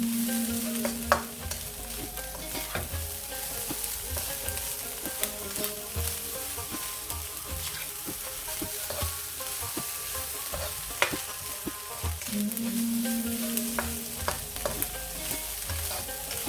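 Chimichanga filling frying in a pan with salt and pepper, a steady close sizzle broken by the scrape and clink of a spoon stirring, continuing with no talk.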